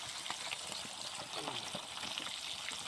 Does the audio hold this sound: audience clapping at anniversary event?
no